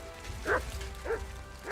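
Two short, faint dog barks about half a second apart rise over low background rumble in the video game Kingdom Come: Deliverance 2.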